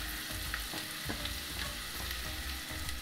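Potatoes and onion coated with turmeric fry in a pan with a steady broadband sizzle, broken by several soft stirring scrapes, close and continuous with no voices.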